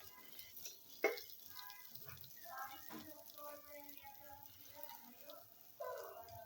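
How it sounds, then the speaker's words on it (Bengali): Water poured into a pot of fried mung dal, a soft splashing trickle with a sizzle as it hits the hot lentils, accompanied by faint clinks and a voice speaking over it. "এখন আমি পানি অ্যাড করে দেব।"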